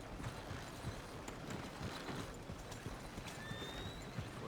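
Horse hooves clip-clop at a steady walking rhythm in the Red Dead Redemption 2 video game. The hoofbeats are soft and sit under a constant wash of ambient background noise.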